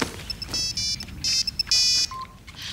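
A mobile phone ringtone plays nearby as a series of bright, beeping electronic tone bursts in an uneven rhythm, with no talking over it.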